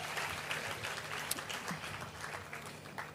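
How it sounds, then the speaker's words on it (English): A packed room of women gives a burst of applause at an arts academy event, a soft steady patter of clapping heard at a distance. "Let's give ourselves a round of applause."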